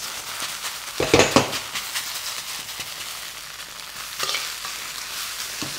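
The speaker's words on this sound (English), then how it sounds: "Give it a really good stir. Mix it all up and keep going." Rice and egg stir-fried in a hot wok, sizzling steadily with a couple of louder scraping bursts as the spatula turns and presses the clumps, close and alone.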